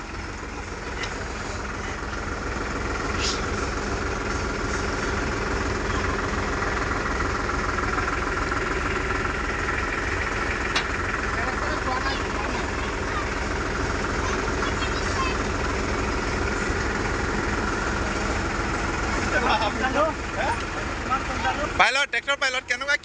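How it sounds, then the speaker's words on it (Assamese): A tractor engine running steadily after the overturned tractor and trailer are set upright, a close, continuous rumbling idle with a bumpy stretch at the end. "এয়া এতিয়া ট্ৰেক্টৰ উঠি গ'ল।"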